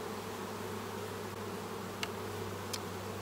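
A swarm of honey bees in flight near their hive makes a continuous, even buzzing hum, with two faint sharp ticks partway through.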